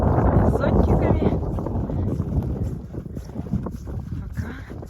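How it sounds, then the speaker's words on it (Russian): Strong wind buffeting across open, boundless fields in the Komi Republic, a loud continuous roar with heavy low rumble from gusts on the microphone, steady throughout. "А ветер дует прямо в глаза."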